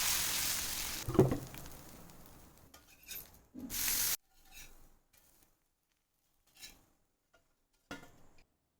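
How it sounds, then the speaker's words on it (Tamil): Fermented ragi and green gram dosa batter is poured onto a hot pan, giving faint, brief bursts of sizzling mixed with clinks and scrapes of a ladle and utensils, separated by quiet gaps. "இப்போ நம்ம தோசை ஊற்றிக்கலாம்."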